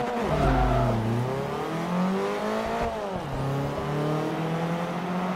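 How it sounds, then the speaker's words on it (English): A four-wheel-drive car launching hard in Forza Motorsport 3, its engine revving up through rising and falling gear pitches, loud and close with a steady roar. "Look at that launch because it's four-wheel drive."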